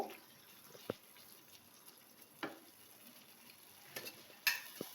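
Jackfruit kofta curry with cashew paste stirred in a pan, soft low sizzling under a few distinct scrapes and clinks of the spoon against the pan, quiet and close, no voices.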